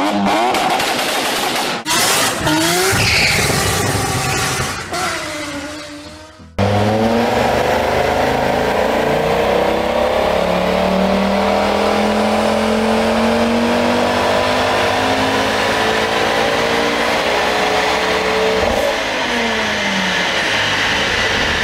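A tuned stage 2 Ford Focus Mk2 ST five-cylinder engine on a dyno roars loud and steady at high revs for a long sustained run after a few short revving bursts, droning continuously with a raspy tone.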